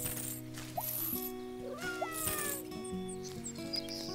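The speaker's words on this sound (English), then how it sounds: "I hear a cat that needs a pet." A cat meows in the video game Garden Simulator, faint short meows over a layered musical game soundtrack.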